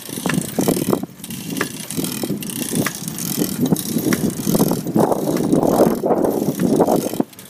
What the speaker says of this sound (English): I'm getting this weird popping sound in my pedal.